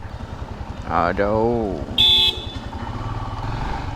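A motorcycle engine drones steadily as the bike rides along a road, with a nearby horn toot and a voice calling out over the running engine.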